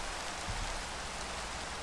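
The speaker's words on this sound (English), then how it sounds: "So I got started on my build, on my house build, and it's raining." Minecraft rain falls as a soft, even hiss of drops, faint and continuous with no talk over it.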